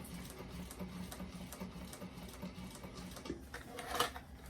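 A sewing machine stitches a bag with a faint, steady rhythmic whirring and ticking, which ends in a slightly louder clunk.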